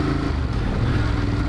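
A Ducati Monster 1200 motorcycle rumbles steadily while being ridden, its engine giving a loud, close, continuous low drone with slight fluctuation and no clear revving.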